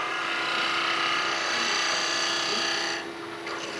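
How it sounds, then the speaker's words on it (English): A roughing gouge cuts slowly into wood spinning on a lathe, giving a steady, loud broadband rasping hiss that holds for about three seconds before easing off slightly at the end. "if you just do the roughing gouge pretty slow"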